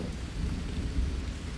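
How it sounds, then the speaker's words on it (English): Night rain in the jungle survival game Green Hell falls as a dense steady downpour with deep thunder-like rumbling underneath, no voices. "Alright, well, it's nighttime. It's raining."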